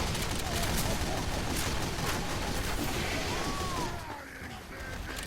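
Gunfire in Team Fortress 2 rattles in a continuous, loud barrage of overlapping shots and pops, easing off slightly near the end, with faint game noise underneath.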